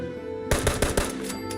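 Gunfire in the video game Fallout 76: a sudden burst of several rapid, loud close shots in quick succession, then a short ringing tail over faint background game ambience.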